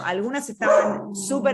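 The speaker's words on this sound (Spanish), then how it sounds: "Perdón, ese es mi perro." A pet dog barks several times close by at home, its yips and woofs mixed in with someone speaking during an interview.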